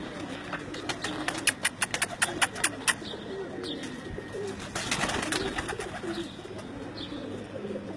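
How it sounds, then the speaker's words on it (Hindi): Lal Pari breed pigeons kept at a home loft coo softly and repeatedly at moderate distance, mixed with scattered sharp clattering bursts and faint background noise. "ये जो आप मेरी स्क्रीन पर ये जो कबूतर देख रहे हैं आप"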